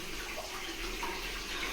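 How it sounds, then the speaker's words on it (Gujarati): Water pours into a farm well from two old-style narrow bores, a steady, faint rushing wash with no other sounds on top. "આ પાણીની આવક છે ને જૂનવાણી ટાઈપના આંગળીના બોર છે, બે કરેલા, એમાં પાણી આવી રહ્યું છે"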